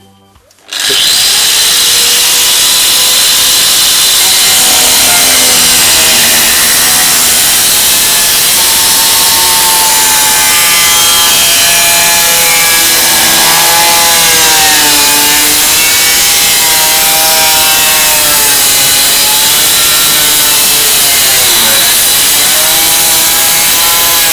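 Power saw cutting through a car fender skirt, a loud, continuous harsh buzzing and grinding that starts abruptly and runs steadily, its pitch wavering as the blade works.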